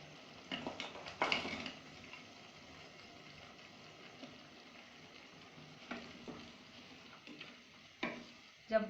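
Tamarind and jaggery cook on medium heat in a pan, a faint steady sizzle broken by soft scrapes and clinks of stirring, with no voices.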